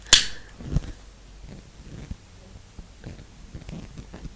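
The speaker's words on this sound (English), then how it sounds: "This is obviously a lighter." A lighter made of metal and plastic is flicked once with a sharp, close click at the start, followed by soft, scattered taps and scratches.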